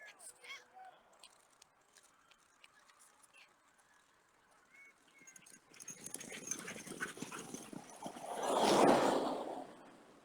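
Sled dogs at a race start bark and yelp excitedly, scattered at first and then swelling into a dense, loud chorus as the team sets off. An announcer talks over them.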